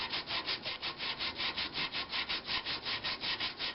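Rhythmic back-and-forth rasp of sandpaper on a spalted oak vase spinning on a wood lathe, about five strokes per second, steady and close, with no talking.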